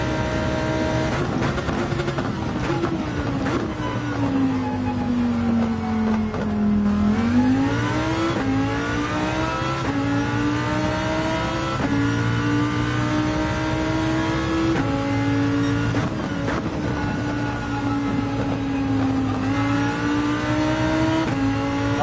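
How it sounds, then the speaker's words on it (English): A Lamborghini race car in a racing video game revs hard around a track, the engine note droning loud and steady, dipping and climbing through gear changes, with no voices. "Love the Lamborghini on this track."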